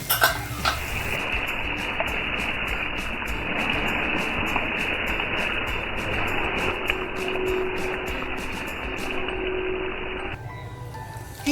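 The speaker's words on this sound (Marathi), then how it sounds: "डाळ शिजून घेतली होती ना ती टाकते आहे" Cooked dal goes into a hot dhaba-style tadka, giving a soft steady sizzle and bubbling with scraping and stirring against the pot, fairly close and continuous, with no talking.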